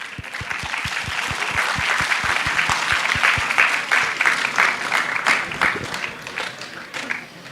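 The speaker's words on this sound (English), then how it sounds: "Please welcome them with a round of applause." Audience applause at a closing ceremony as prize presenters come on stage: one person's loud rhythmic claps stand out at first, then a full room of clapping rises and continues steadily before thinning out.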